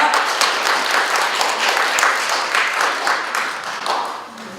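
An audience at a memorial event in Dobong applauds a district official's entrance with dense, steady clapping that fills the room and fades slightly toward the end, with faint voices mixed in.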